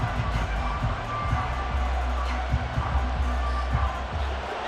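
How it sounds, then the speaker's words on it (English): Stadium crowd noise in Madden NFL 24 during a late goal-line drive, a steady broad roar of cheering fans with low rumble underneath and small surges, sustained throughout. "This crowd doing all they can."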